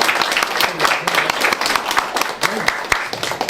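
Applause from the audience at an association's annual general meeting, a dense patter of clapping mixed with voices talking over it throughout, fairly close and steady for a few seconds.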